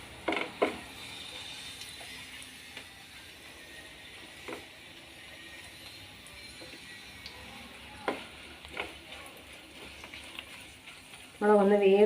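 Dried red chillies fry in a pan, giving a faint, crackly sizzle with occasional soft clicks and stirring knocks, and a voice breaks in at the end.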